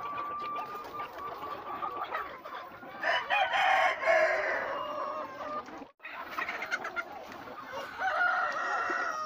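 Local chickens drinking water around a coop, with repeated clucks and short calls, some louder bursts, close and clear with no talking.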